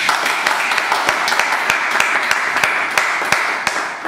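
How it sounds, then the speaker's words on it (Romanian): Audience applause at a cultural caravan event in Vâlcea, Romania, dense and loud continuous clapping with scattered sharper claps throughout. "vă rog să-l aplaudați"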